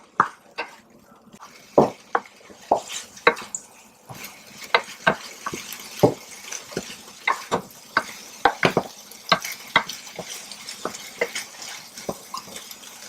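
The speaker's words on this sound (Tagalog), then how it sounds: "To put this meat and mix it together" Meat filling for Philly cheesesteak triangles being mixed in a bowl, with irregular scraping and clinking strokes of a utensil against the bowl, close and fairly loud, no talking.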